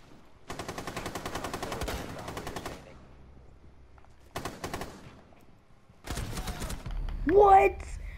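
Rapid automatic gunfire in a video game, three bursts of fast repeated shots, the first and longest lasting about two seconds, loud and close, with a voice briefly heard near the end.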